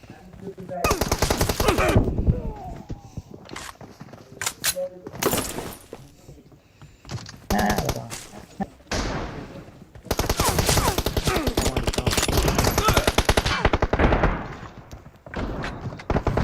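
Bursts of automatic rifle fire in the battle royale game PUBG Mobile, rapid loud volleys separated by short pauses, with a long sustained stretch near the end and occasional voices over the game.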